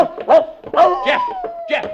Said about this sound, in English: Jeff, you fool dog, come back here.